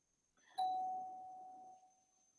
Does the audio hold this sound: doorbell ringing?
yes